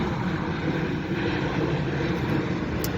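A fixed-wing airplane passing overhead above a parked 2010 Ford E150 van, a loud, steady broadband engine roar holding at constant level throughout.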